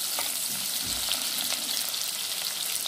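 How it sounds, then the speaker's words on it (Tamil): Onions frying in a pan for mutton kurma, a steady dense sizzle with occasional stirring scrapes, close and continuous with no talk. "நல்லா வெங்காயத்தை நல்லா ஃப்ரை பண்ணுங்கள்."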